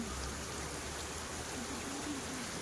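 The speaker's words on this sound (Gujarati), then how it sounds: "વરસાદ તો ફૂલ પડે છે" Heavy rain pours down in a dense, even hiss that stays constant, with a faint low tone running underneath and no talking.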